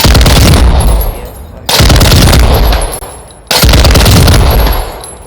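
Bursts of rapid automatic gunfire from a gun in a Warzone 2 firing range, three loud sustained volleys separated by short pauses, close and dense.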